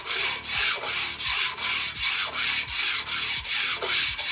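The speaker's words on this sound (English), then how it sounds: "Start by grinding your blades and go to the front of them and then to the back of them." Short track skate blades held in a Bont sharpening jig are ground on a diamond stone, making a rhythmic rasping scrape in even back-and-forth strokes about twice a second, loud and close with no speech.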